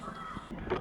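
A crow caws in the deep woods, a couple of harsh calls at moderate distance over quiet forest background, with no one speaking.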